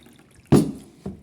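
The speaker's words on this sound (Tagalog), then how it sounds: "there's the water" A short splash of running water, then a second brief gush, close by and alone against a quiet background.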